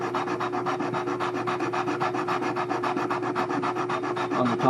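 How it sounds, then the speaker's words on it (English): Violin bridge feet being sanded against abrasive, a rapid steady back-and-forth rubbing with even rasping strokes, close and fairly loud, no voices. "So what this does is sands down the feet so they sit on the top"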